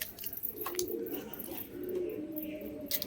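A pigeon coos in low, rolling phrases close by, two main bouts with faint rustling between, and no speech over it.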